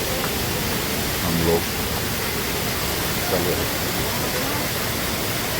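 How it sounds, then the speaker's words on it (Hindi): A waterfall beside the trek trail from Sonprayag to Kedarnath gives a steady, loud broadband rush throughout, with a brief voice speaking over it. "रास्ते में झरना"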